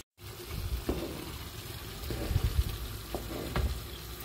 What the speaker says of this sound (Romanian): Iar acum pun bulion.